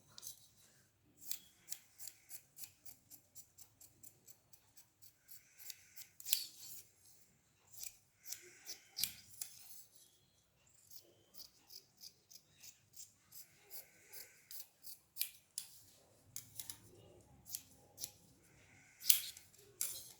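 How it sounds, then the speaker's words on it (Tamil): Scissors snip through blouse fabric in a fast run of crisp, close cuts, repeating in quick bursts with brief pauses between strokes. "இதை அப்படியே நம்ம கட் பண்ண போகிறோம்."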